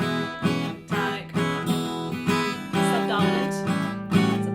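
Guitar strumming a 12-bar blues chord progression, steady rhythmic strokes with the chords changing every few beats, close and clear with no voice.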